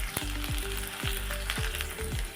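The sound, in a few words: onion and chillies frying in hot oil with mustard seeds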